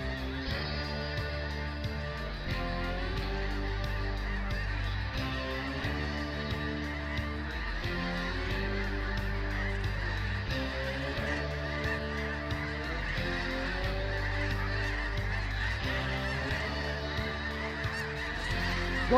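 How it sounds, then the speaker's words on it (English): A large flock of geese honks overhead in flight during a waterfowl hunt, a dense, continuous chorus of overlapping calls that stays loud and close for the whole stretch. "We got a lot of birds in the air. Watch this flock right in front."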